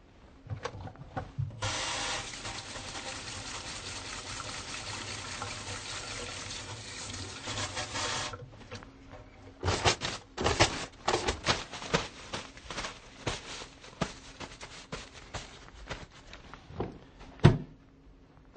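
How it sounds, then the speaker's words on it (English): Hands washed under a running tap: a steady stream of water for several seconds, then intermittent splashing, rubbing and dripping sounds, close and moderately quiet, with no speech. "So first I'm going to wash my hands."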